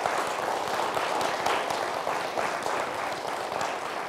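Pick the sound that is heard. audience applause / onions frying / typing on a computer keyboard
audience applause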